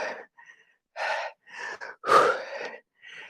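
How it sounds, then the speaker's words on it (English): Several sharp, forceful breaths puffed out in short bursts during a weightlifting push, close and fairly quiet, with brief silences between them. "Big exhale as you push up."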